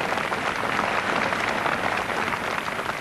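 A golf gallery at the 1969 British Open claps steadily after a long holed putt, a dense, even wash of applause from a sizable crowd that holds at full strength throughout with no voices over it.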